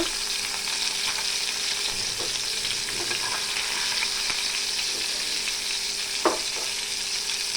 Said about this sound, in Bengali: এখন আমি মাছটা উল্টিয়ে দেব